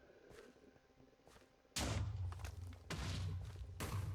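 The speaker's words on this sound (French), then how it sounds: "Là j'entends des explosions, merde d'où ça vient." Heavy Minecraft explosions boom one after another, three sharp blasts each followed by a deep rumble, loud and close after a quieter start.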